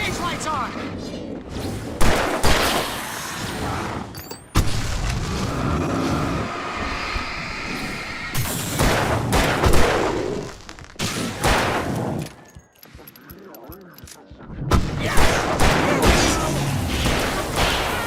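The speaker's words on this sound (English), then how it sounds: "I can set off more of the fireworks from here and help you out!" Fireworks bursting in the Alan Wake Remastered video game, a dense series of booms and crackling explosions with loud thumps across a noisy scene, broken by brief quieter gaps, with speech over parts.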